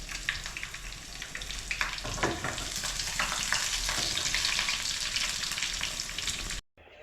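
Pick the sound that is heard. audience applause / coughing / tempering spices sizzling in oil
tempering spices sizzling in oil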